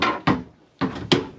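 Kitchen cabinet door in a Thor Majestic 28A RV motorhome, several sharp wooden knocks and clunks from opening and closing, close and fairly loud, separated by short quiet gaps.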